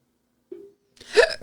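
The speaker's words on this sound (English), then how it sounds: "I got the hiccups." A man on a comedy podcast lets out one abrupt hiccup, close to the mic, after a short hum.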